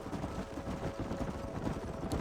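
Galloping horse hooves in Red Dead Redemption, a rapid continuous thudding patter with wind and a low rumble, no voices.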